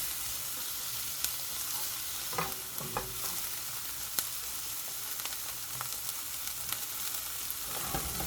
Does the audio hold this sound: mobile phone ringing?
no